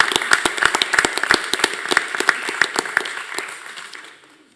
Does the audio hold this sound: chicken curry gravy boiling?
no